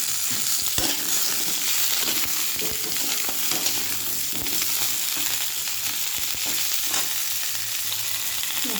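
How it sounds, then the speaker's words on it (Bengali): Pumpkin and potato frying lightly in a pan, a steady close sizzle with occasional stirring scrapes throughout, no voices. "হালকা করে ভেজে নিলাম।"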